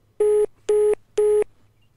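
Three identical beeps of a French telephone line's tone after a call hangs up, evenly spaced with short gaps, loud and clean with no voices.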